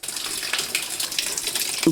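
Water from the inlet pipe pours into the tub of a semi-automatic washing machine, a steady close gushing splash with no voices.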